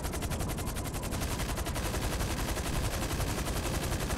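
Continuous rapid automatic gunfire in a video game, a loud, steady stream of shots lasting the whole stretch without pause, with no voices over it.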